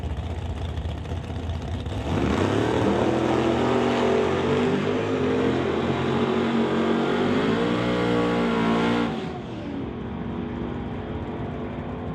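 Drag racing cars, one a Chevy, launching side by side with a loud surging engine roar that swells and shifts pitch over several seconds, then drops back to a distant rumble.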